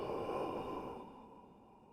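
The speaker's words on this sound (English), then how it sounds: "So we do that exhale." A slow, soft exhale through the mouth during a diaphragm breathing exercise, close and steady, trailing off gradually in an otherwise quiet room.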